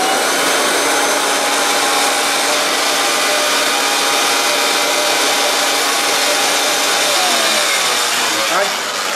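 Kirby vacuum cleaner running with its dirt meter attached, a loud, close, steady motor whine and airflow roar held for the whole stretch without pause.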